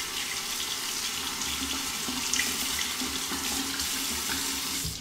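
Tap water runs steadily into a sink while an Edwin Jagger safety razor with a Feather blade is rinsed, a continuous close hiss and splash with no talking.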